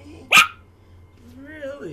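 A single sharp bark from a small Yorkshire terrier, loud and close, followed by a low whining vocalization.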